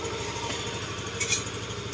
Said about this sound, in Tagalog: At ayan, tahimik na yung kanyang makina.